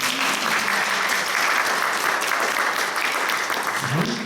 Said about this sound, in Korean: 박수 한번 해주세요. 박수.